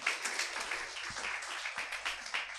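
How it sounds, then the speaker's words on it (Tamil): A church congregation at a Sunday service applauds with dense, steady clapping from many hands, fairly close and continuous throughout, with no speech over it. "அவங்களுக்கு ஒரு நல்ல கைத்தட்டு கொடுப்போமா."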